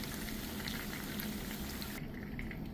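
Chicken pieces frying in hot oil for a pepper chicken masala give off a steady, dense sizzle and bubbling hiss, close and continuous, easing slightly near the end.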